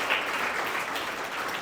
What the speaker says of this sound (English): A huge round of applause to you, sir